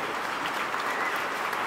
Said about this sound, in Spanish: Un aplauso para estos pequeños.